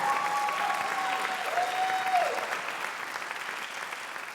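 Applause from the audience at a Reimagine America foundation evening, a steady wash of clapping for a performer named Gene, moderately loud and continuous, with a faint tonal hum running through it.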